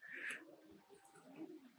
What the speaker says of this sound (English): Just a flurry of pigeons.